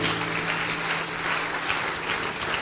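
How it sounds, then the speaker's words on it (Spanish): A church congregation applauds during a sermon, sounding as a steady wash of clapping from many hands throughout. "¿Puede darle un aplauso a Él?"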